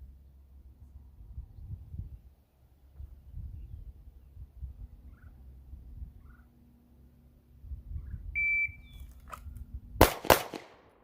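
Two sharp, loud gunshots crack in quick succession during a concealed-carry draw drill, landing near the end after several seconds of quiet background rustling.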